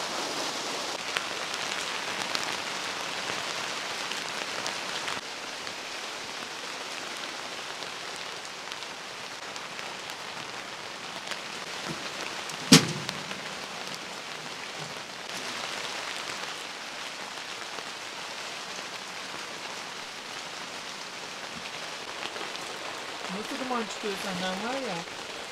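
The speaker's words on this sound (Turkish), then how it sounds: "çok sağanak resmen ya." Heavy rain drums steadily in a dense hiss over a New Year's camp in a downpour, with one sharp knock partway through and brief low voices near the end.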